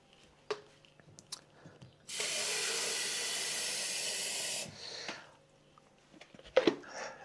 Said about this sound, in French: On va remplir la bouilloire.